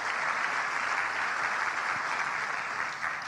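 A church congregation at a sermon breaks into loud, sustained applause, a dense steady clatter of many hands clapping that holds evenly for the full stretch and eases slightly at the end.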